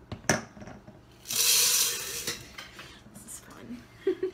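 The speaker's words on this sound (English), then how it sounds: "I have a half cup of split peas that we're going to put in the blender." Half a cup of dry split peas poured into a blender jar, a loud gritty rattling rush lasting about a second near the start, framed by clinks of kitchenware and light handling noise.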